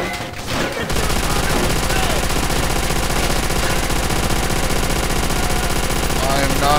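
Sustained rapid gunfire rattles through a Call of Duty: World at War battle, dense machine-gun bursts starting after a brief lead-in and continuing loudly without pause.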